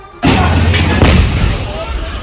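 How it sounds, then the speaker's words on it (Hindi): A gas cylinder bursts inside a burning shop, caught on news footage: a sudden loud blast followed by a sustained rumbling roar, with a second sharp crack about a second later. "उस दुकान में आग लगते ही वहां भीषण धमाका हो गया"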